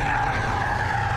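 A small 1.0-litre hatchback, either a Seat Ibiza FR or a Ford Fiesta, skids during a timed lap. Its tires give a steady, loud, sustained squeal over a low engine rumble, with no talk.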